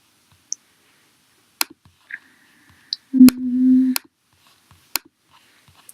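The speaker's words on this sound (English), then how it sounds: "click on my title, drag it over, and then I can type in physical geography" Computer mouse clicking while editing a webpage in Weebly: a handful of sharp, isolated clicks spread across a quiet background, plus a short low hum midway, close and clear with no speech.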